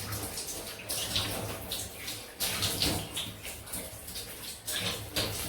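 Running water splashes steadily as shaving lather from Mitchell's Wool Fat soap is rinsed off, with louder gushing bursts about every second or so. The sound is close and continuous, with no talking.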